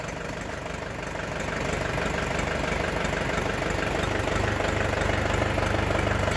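A large Orion GD 404 Pro tractor engine idles nearby, a steady, loud diesel chug with a knocking texture that swells slightly after the first couple of seconds and then holds even.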